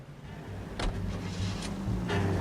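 A car driven in the video game L.A. Noire gives a low, steady engine hum with faint road noise. A few brief higher-pitched swells rise over the drone.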